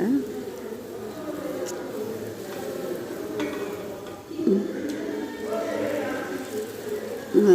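Puri deep-frying in hot oil for a breakfast of puri and coconut chutney, giving a soft, steady bubbling hiss. The frying stays low beneath a voice talking nearby.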